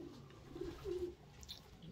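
A racing pigeon coos softly close by, two low throaty coos in quick succession over quiet room tone.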